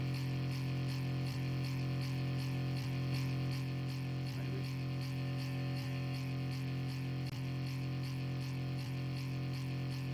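A dense, sustained droning sample through a convolution reverb on a send, steady and loud throughout, with faint periodic ticks running underneath.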